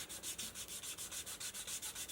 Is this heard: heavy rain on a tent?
no